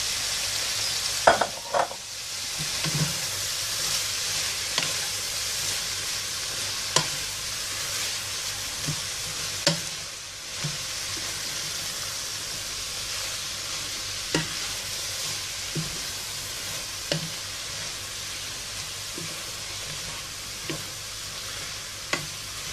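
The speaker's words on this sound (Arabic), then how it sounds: "نضيف ونحرك" Spinach stew with meat and pine nuts bubbles and sizzles steadily in a pot, while a spoon knocks and scrapes the sides every second or so, close and continuous with no voices.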